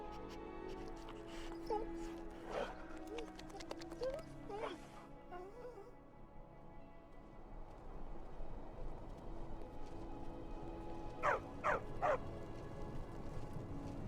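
A dog in the Skyrim video game barks, yips and whimpers in short bursts, faint within the game's ambient soundscape, with a few sharper yelps clustered toward the end.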